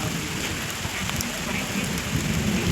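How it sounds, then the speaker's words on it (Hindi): Steady rain pours down outdoors in a persistent, dense hiss, with low rumbling underneath throughout and slightly heavier spatters toward the end. "बारिश बराबर पड़ रही है।"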